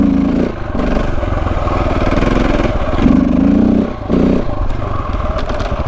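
A KTM 690 Enduro single-cylinder motorcycle revs hard climbing a hill for a wheelie, a loud, close engine roar rising and falling in bursts with brief throttle dips.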